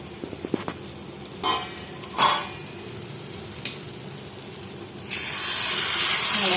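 A tomato egg roast is stirred in a pan over a steady sizzle, with a few sharp scraping strokes and then a louder hissing fry toward the end.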